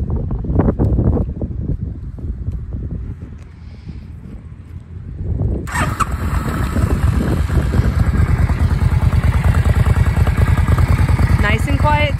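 A carbureted 2004 Suzuki Intruder Volusia motorcycle engine idles with a steady low rumble, starting from a quieter stretch and becoming louder and fuller halfway through, running continuously to the end.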